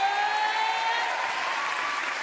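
Steady applause from a comedy show audience, a continuous broad wash of clapping that holds evenly throughout without pause.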